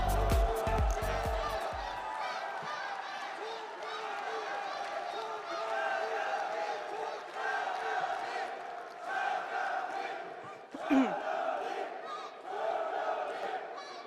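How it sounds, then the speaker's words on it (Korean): A crowd cheers and shouts in a large hall at a political party convention speech, a roaring mass of voices with scattered clapping that swells and dips throughout. "뜨거운 박수를 부탁드립니다."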